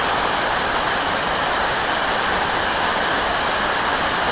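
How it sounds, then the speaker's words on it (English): Apsley Falls in Oxley Wild Rivers National Park roars as a dense, unbroken wall of loud rushing water, with no voices over it. "See the mist coming up from the base of the waterfall."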